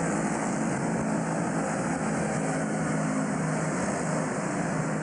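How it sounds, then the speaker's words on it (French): Steady, loud rotor and engine drone of a combat helicopter flying, a constant broadband roar with no breaks and no voices. "C'est un hélicoptère de combat, c'est évidemment une prouesse."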